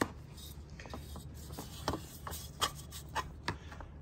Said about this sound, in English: I'm going to scrub the bulbs and the chrome.